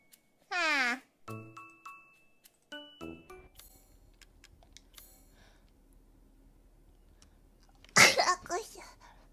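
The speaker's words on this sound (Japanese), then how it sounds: "くしゃみが。" A single sharp sneeze bursts out near the end, after scattered soft clicks, tones and faint background noise.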